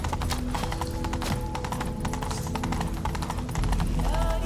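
Rapid hoofbeats of a galloping horse in The Witcher 3 thunder steadily throughout, mixed with a dense orchestral-style game soundscape and brief shouted voices.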